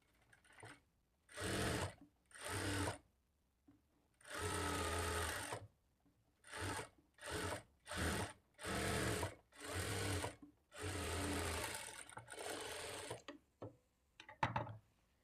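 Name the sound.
sewing machine stitching a blouse back seam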